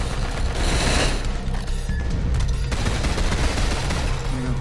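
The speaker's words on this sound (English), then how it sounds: "Alright, I'm gonna use my pistol now." Pistol gunfire in a Roblox zombie game, loud dense shots blurring into a continuous rapid volley for several seconds, with no talking.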